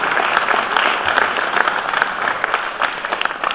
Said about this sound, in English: you may now applaud to your participation